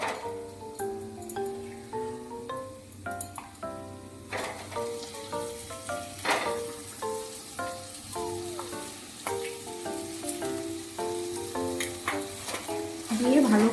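Mashed potato being stirred into fried spices in a pan for potato chop, a steady sizzle and scraping that runs under louder melodic background music throughout.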